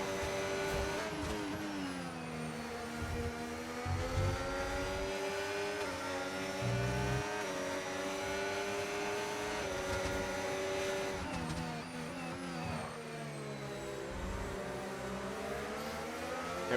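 A race car in a racing video game sustains a steady, loud engine note down the straight, pitch sweeping through gear changes, with broadcast-style commentary talk over it.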